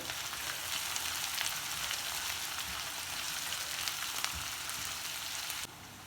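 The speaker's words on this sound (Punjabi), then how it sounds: "ਇਹ ਸਾਰੇ ਮਸਾਲੇ ਇਕੱਠੇ ਪਾ ਕੇ ਤੇ ਇਹਨਾਂ ਨੂੰ ਅਸੀਂ ਜਿਹੜਾ ਹੈ ਜੀ ਭੁੰਨਣਾ ਹੈ" Spices and green chillies sizzling and roasting in oil in a pan for an aloo gobhi matar dish; a steady, even crackling fry with a few light pops, close and continuous, stopping abruptly near the end.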